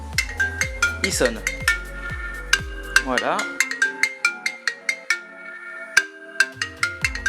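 An iPhone motion alarm app rings after the phone is moved, giving a rapid series of bright electronic beeping chimes with sweeping tones, while a person speaks briefly over it.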